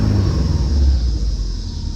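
Built Subaru WRX engine running loud with a deep, heavy rumble and a steady hiss above it, close up and continuous with no voices.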